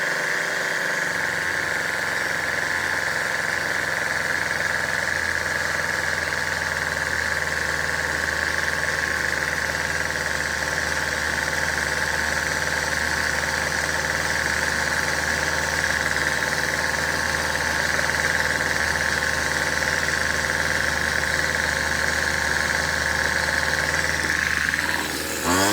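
A Featherlite string trimmer engine idles high with a steady, close, continuous buzzing drone for about 26 seconds, with no talking.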